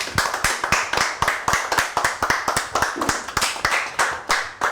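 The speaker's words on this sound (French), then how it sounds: "on va applaudir pour toutes les 3 ce soir, mesdames" A live audience claps rhythmically, a steady train of sharp, loud hand claps that keeps a regular beat from start to finish with no voices over it, ending a women's makeup competition semi-final show.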